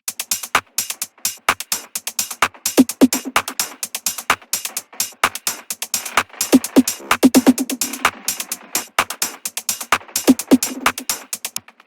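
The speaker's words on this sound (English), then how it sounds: "the E with the glitch effect" A minimal tech house beat is chopped up by a beat repeat and glitch plugins, giving rapid stuttering clicks and pulses in an uneven, jerky rhythm with short gaps between bursts, loud and alone.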